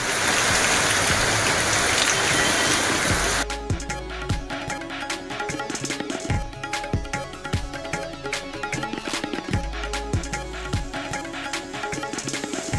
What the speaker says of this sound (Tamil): தமிழகத்தில் வெளுத்து வாங்கும் மழை